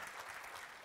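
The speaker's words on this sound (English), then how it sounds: "Bit of round of applause started there for Andy. I think we should continue that." Round of applause for Andy Harrington at a personal development talk, steady dense clapping from an audience that holds at an even level throughout the short burst.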